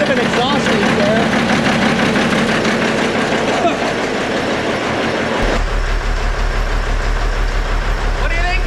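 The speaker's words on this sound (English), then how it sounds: "Got a bit of an exhaust leak there." An old car's engine idles with an exhaust leak, a steady low rumble that settles into a deep, even drone partway through, with people talking over it.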